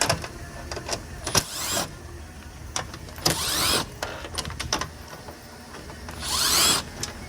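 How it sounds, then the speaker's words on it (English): A 7mm socket drives out the inner fender fasteners on a 2016-2018 Chevrolet Cruze during headlight removal, with three loud whirring, ratcheting bursts separated by quieter clinks and handling noise. "Get a 7mm socket and get to work."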